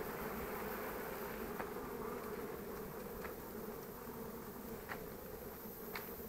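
Honeybees buzzing around apiary hives: a faint, steady swarm drone holds the whole time, with a few soft clicks and no talking.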